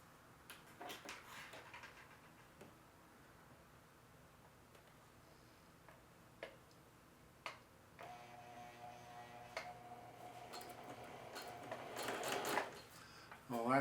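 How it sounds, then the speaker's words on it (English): A sewing machine edge stitches along a front pocket with a quiet motor whir and light ticking clicks. The running grows louder toward the end, with a person speaking softly in between. "And I'm going to edge stitch right along there."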